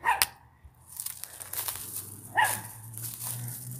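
A neighbor's dog barks outdoors in a yard, two short sharp barks a couple of seconds apart, moderately near, over steady background noise with no talking.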